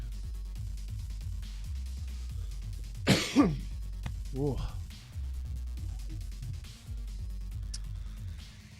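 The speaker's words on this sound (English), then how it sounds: "I'm still coughing." A man coughs and clears his throat a couple of times over a steady low electronic music bed, with no speech around the coughs.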